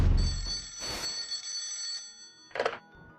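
An old telephone bell rings out in a quiet room, a sustained metallic trill followed by a shorter second burst, close and clear with no talking.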